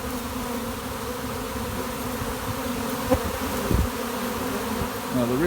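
A honeybee swarm hanging in place gives off a steady, dense buzzing that stays close and even throughout, with a few brief louder bumps near the end.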